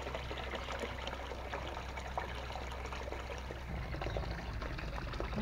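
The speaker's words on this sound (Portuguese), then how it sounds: "Vamos derrubar um pouco da água." Water is poured out into a fish lake, a steady close trickling and splashing stream that runs without pause for several seconds.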